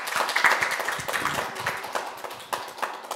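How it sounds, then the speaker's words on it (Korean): Seminar audience applauding presenters and panelists after a trade-policy discussion, a loose scatter of claps that swells early then thins out over a few seconds, with a little room noise. "박수 한번 드리겠습니다."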